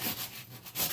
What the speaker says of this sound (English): So you can see that the sandpaper's catching it all the way across evenly